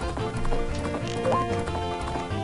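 A horse's hooves clip-clop in a rapid gallop in the video game The Legend of Zelda: Majora's Mask near Romani Ranch, steady rhythmic hoofbeats loud and up front over game music.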